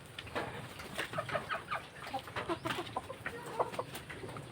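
Several chickens cluck and murmur nearby in a busy, irregular chatter, soft overall with a steady background hiss.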